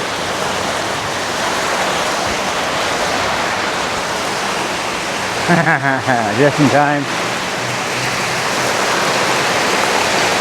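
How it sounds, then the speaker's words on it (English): Steady broadband hiss of rain falling in Malaysia, continuous throughout, with a brief spoken remark partway through. "it's starting to rain."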